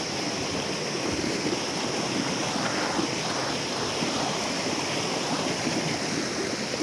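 A flowing river stream, its broadband rushing water steady and continuous throughout, with no voices.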